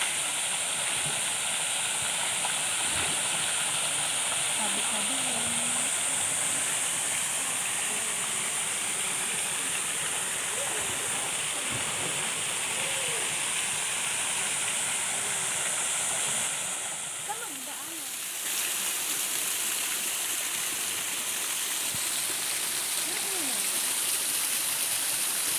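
Fresh, clear spring water at Biyong Spring flows and rushes in a steady, dense hiss that stays fairly loud and even throughout, dipping briefly near the end, with faint voices in the background.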